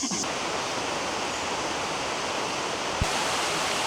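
Steady, dense roar of falling water from Tukalip waterfall in Lombok's jungle, rushing close by with no letup, and a brief soft knock near the end.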